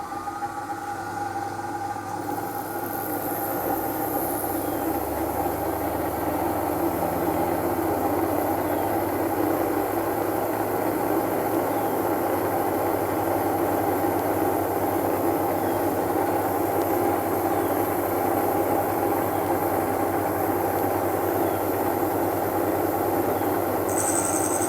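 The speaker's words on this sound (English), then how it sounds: "So let me crank it on for you." An antique Black and Decker valve grinder, its oilers freshly filled, runs with a steady, loud motor hum and vibrating drone that holds evenly from start to finish with no talking.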